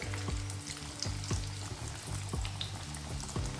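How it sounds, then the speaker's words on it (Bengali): Chicken nuggets frying in oil in a pan, a constant crackling sizzle with a rhythmic series of low bubbling pops repeating roughly every second, close and alone with no voices. "এক একটা নাগের ভাজতে সাত থেকে আট মিনিট বা দশ মিনিটের মধ্যে হয়ে যাবে"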